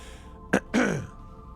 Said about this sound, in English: Did you not hear me clear my throat for the exposition?